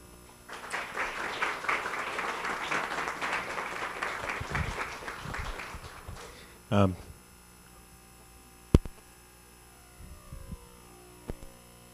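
An indoor audience applauds to welcome a speaker at a community talk on California demographics and economy in Santa Cruz County: steady, fairly close clapping for about six seconds, fading out, followed by a few handling bumps and a faint background hum.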